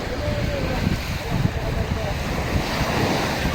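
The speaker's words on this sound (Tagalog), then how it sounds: "Medyo may alon konti ngayon ha. Maganda pa rin dagat." Sea waves and gusting wind along a shore where a boat is being launched into slightly choppy water, a steady close wash of surf with wind rumble buffeting the microphone throughout.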